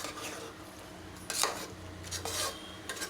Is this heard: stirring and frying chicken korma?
yes